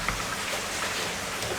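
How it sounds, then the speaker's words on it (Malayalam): Heavy rain falls steadily outside, a dense, even wash of hiss with no distinct drops standing out, continuous and fairly soft throughout. "പുറത്ത് നല്ല മഴ പെയ്യുന്നുണ്ട്."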